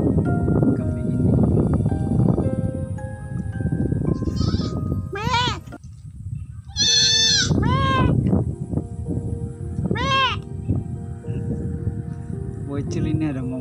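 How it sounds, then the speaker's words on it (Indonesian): Young goats bleat several times in short wavering cries, loud and close, while a person talks over and between them on a farm. "bocilnya ada berapa sekali nih kambing ini?"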